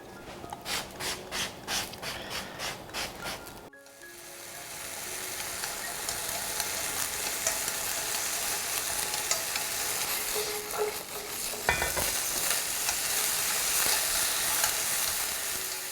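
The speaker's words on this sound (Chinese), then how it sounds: "土豆煎一煎，锅里可以喷一点油。" Potato slices pan-fry in a lightly oiled pan, a steady crackling sizzle that fills the clip after an opening stretch of rhythmic scraping and clattering; the frying is near and continuous, with a brief louder burst partway through.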